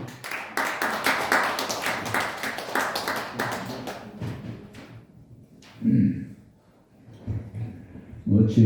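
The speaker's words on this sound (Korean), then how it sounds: "박수로 한번 모시겠습니다." Church congregation applauding to welcome a guest pastor at a worship service, a burst of clapping through the first four seconds that fades out, followed by someone speaking into a microphone.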